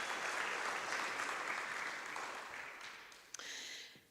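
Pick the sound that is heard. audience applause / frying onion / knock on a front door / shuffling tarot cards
audience applause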